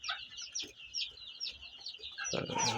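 Young chickens cluck and cheep inside a hen coop, a run of quick, high, overlapping calls close by, with a louder burst of clucking near the end and no talk.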